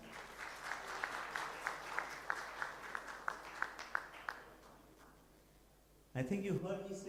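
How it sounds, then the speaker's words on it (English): Moderate applause from an audience at a cricket league launch party rolls on for several seconds with scattered sharper claps, fades out, and then a voice starts speaking. "Round of applause, please."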